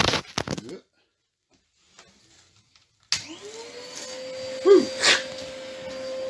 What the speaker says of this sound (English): I can switch on the extractor.